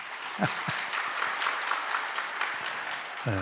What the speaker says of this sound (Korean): 우리 악기팀들 우리 수고 많이 하는데 박수 한번 치십시다